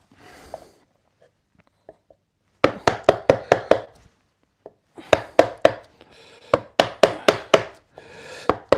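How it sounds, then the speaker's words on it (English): A chisel cutting into wood for a wall bracket, struck in two quick bursts of sharp, evenly spaced knocks, each run of about six to eight blows, close and loud with short pauses between. "it's more fun using a chisel than it is"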